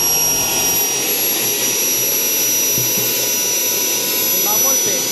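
A JetJoe 1400 turbine jet engine runs on a test stand at about 30,000 RPM, giving a loud, steady roar with a high whine that holds without a break from start to finish.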